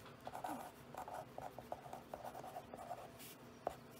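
A Prisma pen scratches across a thin bible page in short, repeated strokes, a soft close-up scribbling rhythm that runs steadily for several seconds without any talk.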